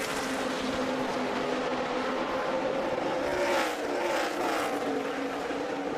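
NASCAR Nationwide Series race cars roar around Iowa Speedway during the 2011 John Deere 250, a steady, loud blended engine drone with a slight swell midway and no voices.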